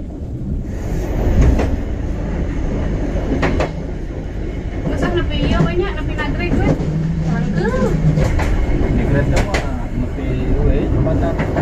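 Train in Indonesia, a Cikuray passenger service hauled by a locomotive on the Garut–Cikampek line near Kadungora, rolls on with a continuous rumble and steady rail clatter, heard from inside throughout while people talk faintly underneath.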